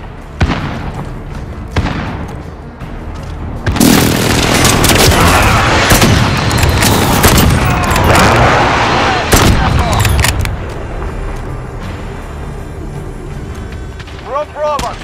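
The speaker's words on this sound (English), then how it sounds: "Enemy precision airstrike." Thunderous precision airstrike explosions tear through a Call of Duty: Modern Warfare multiplayer match, loud and sustained for several seconds, preceded and followed by sharp gunshots, with radio voice callouts in between.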